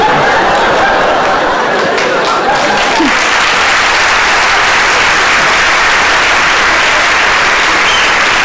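Studio audience applause at a Turkish comedy sketch show, loud, steady clapping that fills the whole stretch, with a little crowd laughter and chatter mixed in.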